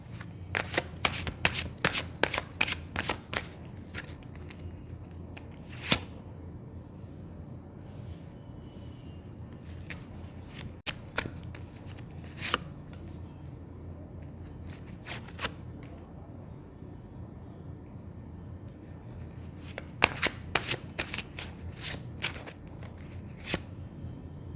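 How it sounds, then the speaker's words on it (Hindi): A deck of tarot cards is shuffled in rapid bursts of crisp riffling flicks, with a quick flurry at the start, scattered single snaps in the middle and another run near the end, close and fairly quiet with no talking. "जब तक मैं कार्ड शफल कर रही हूँ"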